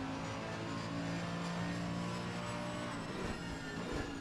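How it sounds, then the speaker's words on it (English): A Mercedes race car in Assetto Corsa Competizione at the Zolder circuit roars with a dense, sustained engine note, loud and steady throughout with slight shifts in pitch, no voices over it. "that Mercedes engine really does sound good there"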